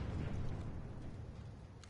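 A frag grenade going off in a multiplayer shooter, heard as a heavy, low rumbling blast that rolls on and slowly fades, fairly soft in level, without speech.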